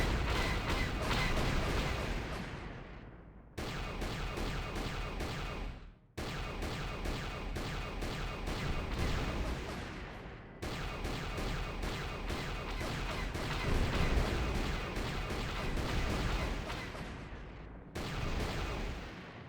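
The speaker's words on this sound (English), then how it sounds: "Incoming fire!" Sustained artillery barrage and gunfire from a Star Wars role-playing video game, loud continuous rumbling booms in several long stretches broken by abrupt cuts, with no talking.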